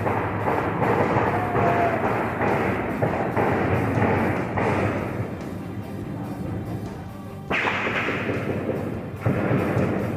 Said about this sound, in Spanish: Puede escuchar los disparos.